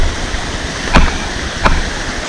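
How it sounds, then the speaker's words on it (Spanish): Constant rushing waterfall roar, loud and close, with two brief knocks or splashes standing out over the steady noise. "Vamos aquí a aquella cascada y lo grabamos."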